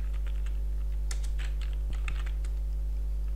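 Quick, light clicking of keystrokes on a computer keyboard while pinyin is typed, irregular taps close by over a steady low electrical hum, no voices.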